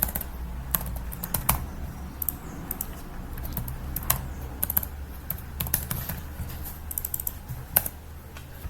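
Computer keyboard typing while filling in account details, continuous close key clicks with irregular bursts and louder taps, no voice over it.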